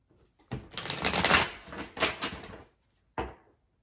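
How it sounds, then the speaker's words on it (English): Tarot cards being shuffled by hand: a long papery riffle of rapid flicking, then a short separate slap of the deck, close and fairly loud with no talking. "let's pull out some cards on this, some tarot"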